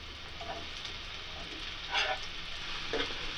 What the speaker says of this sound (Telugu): మనం కట్ చేసి పెట్టుకున్న మష్రూమ్స్ని అందులో వేసి వేయించుకోవాలి